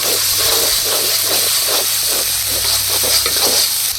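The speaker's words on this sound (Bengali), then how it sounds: "মশলাটা ভালো করে কষিয়ে ডাল দিয়ে দেব।" Ground cumin and onion paste frying in a pan at a village picnic cooking spot, a steady loud hiss and sizzle with soft stirring scrapes and no talking.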